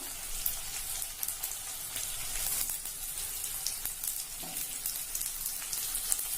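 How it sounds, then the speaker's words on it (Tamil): Onion and tomato sauté in a pan for a Kerala-style pulinkari, making a steady, soft crackling sizzle that carries on evenly throughout with no voices. "வெங்காயம், தக்காளி எல்லாமே வதங்கியாச்சு"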